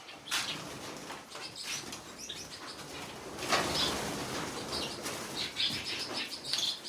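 Pigeons or doves flap their wings in bursts while being caught by hand, with scattered chirps and soft coos around them.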